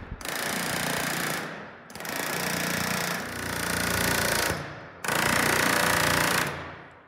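A power drill bores into a rivet on a composite van trailer panel, grinding loudly and steadily in three long bursts with brief pauses between them, with no talk.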